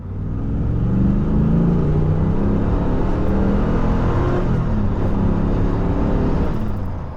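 A 1995 Callaway C8 Supernatural Camaro accelerating hard, its refined exhaust giving a loud, steady, deep engine roar that holds full volume throughout with no speech.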